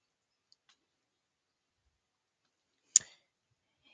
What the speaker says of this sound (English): So I'm just going to click on that to open the file and confirm the prompt.